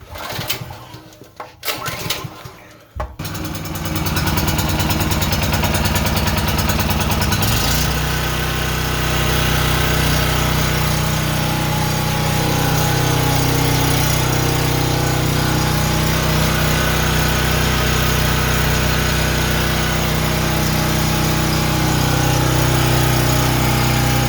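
A small portable generator engine starts up after some handling noises and runs on at a loud, steady, close buzzing drone for the remainder.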